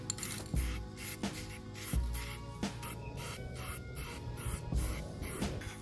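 Spray paint applied in coats to STI fog light covers, rhythmic bursts of hissing spray with faint background hum and occasional low knocks, fairly close and steady throughout.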